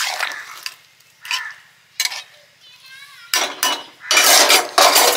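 A metal lid clinks onto a pot of prawn curry, sharp clattering strikes of cookware arriving in separate bursts, close and bright, with a voice speaking between them.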